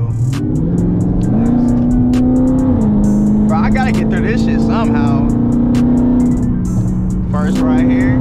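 A car cuts through dense highway traffic, its engine holding a steady, loud drone that steps up in pitch as it accelerates, with wind rush and brief passing sounds of other vehicles throughout.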